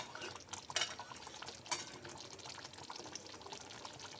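A spoon stirs dried fenugreek leaves (kasuri methi) into an okra masala in a pan, with soft scraping and a couple of sharper metallic clinks, fairly quiet and close, with no talking.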